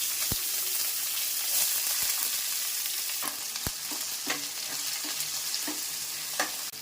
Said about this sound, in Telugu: ఆవాలు, జీలకర్ర ఇవి వేగాక ఉల్లిపాయ ముక్కలు వేసుకోవాలి.